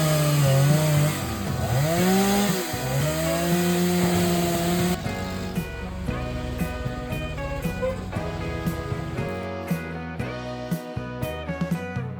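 A chainsaw cuts through a jackfruit tree trunk, its loud engine whining and bogging in rising and falling pitch, then dropping to a rough idle with sporadic knocks.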